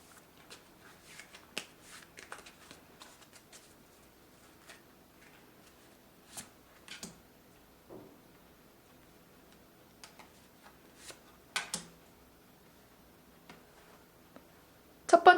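Tarot cards being shuffled and drawn in a quiet room make faint, sparse clicks and soft snaps, with a few sharper card flicks near the end and no talking.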